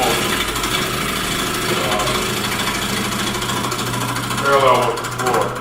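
A woodturning chisel cuts a natural edge bowl spinning on a lathe, giving a loud, continuous rough scraping drone with shifting texture near the end.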